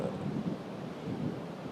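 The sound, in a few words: cold wind blowing outdoors into the microphone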